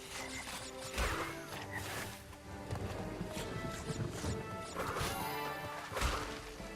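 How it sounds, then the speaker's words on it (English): Wooden crates smash and splinter in Crash Bandicoot, with several sharp cracking breaks spaced about a second apart, mixed with game effects and footsteps. All of it is fairly loud and close, with no voices. "Thought I just smashed open a box and got literally nothing from it"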